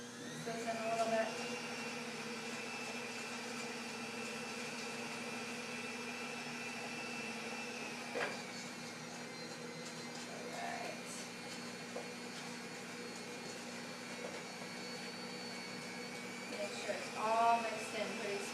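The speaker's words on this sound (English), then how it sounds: "Put the blender back on." An electric blender whirs steadily as it mixes cookie dough with vanilla extract, a constant motor drone running under a speaking voice, with a few brief clatters along the way.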